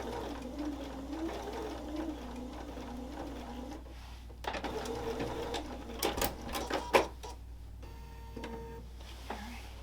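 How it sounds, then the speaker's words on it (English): A sewing machine stitches quilt binding in a straight line, with a rapid rhythmic whir for several seconds, then a pause followed by clicks and handling clatter, then another short burst of stitching. "So I'm just sewing straight down that line."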